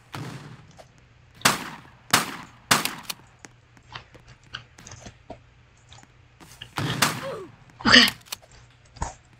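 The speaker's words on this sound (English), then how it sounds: "Give him a little warning shot." Gunfire in a Fortnite-style Roblox game: a few sharp, separate shots with short decays, spaced irregularly over quiet gaps, then a cluster of louder bangs near the end.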